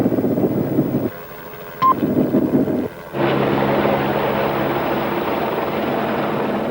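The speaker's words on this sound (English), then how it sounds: "the helicopter has no problem in tracking him." A police helicopter tracking a suspect drones overhead in a steady mid-range rumble, broken by a few abrupt cuts, a sharp electronic beep, and a louder, brighter stretch toward the end.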